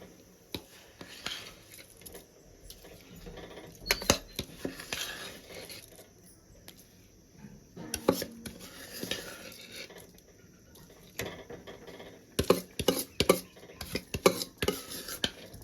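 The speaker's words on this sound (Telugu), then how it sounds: "ఇప్పుడు మనం కడిగి పెట్టుకున్న సామ బియ్యాన్ని వేసుకుందామండి." Washed little millet (sama) rice tipped into a pot of boiling water, giving soft patters and clinks of pot and utensil in irregular bursts, close by with no talk.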